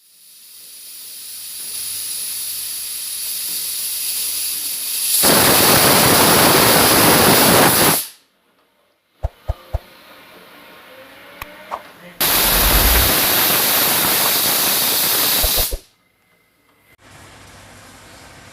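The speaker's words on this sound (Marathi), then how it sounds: "दोन शिट्ट्या करून घेऊया म्हणजे डाळ चांगली शिजेल" Kitchen pressure cooker cooking moong dal hisses in two long loud steam whistles, each several seconds, separated by quieter room sound with a few small clicks and a voice.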